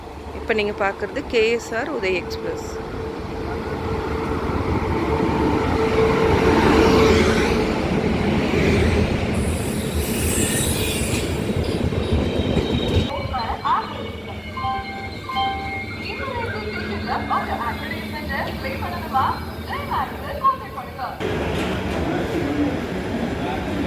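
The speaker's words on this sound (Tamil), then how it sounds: "next train Vande Bharat" A Vande Bharat train rumbles steadily at a platform in Tiruppur junction, with a low rolling drone, metallic clatter and some squeals, while a voice talks over the noise.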